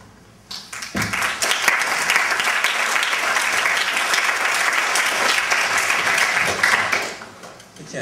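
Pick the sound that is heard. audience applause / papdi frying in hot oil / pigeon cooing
audience applause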